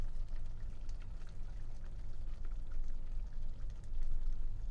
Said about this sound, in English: So we're going to add the cooking cream now